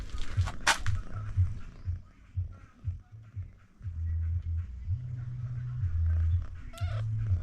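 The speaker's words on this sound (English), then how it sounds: "this cat is being too much now." A farm cat meows loudly and repeatedly at close range, with drawn-out whining calls over a low throbbing hum.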